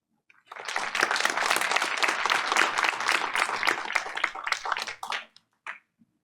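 A modest group at a Board of Education meeting claps for about five seconds, steady and close, then trails off into a few stray claps.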